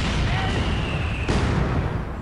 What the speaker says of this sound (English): He's got his own mortar.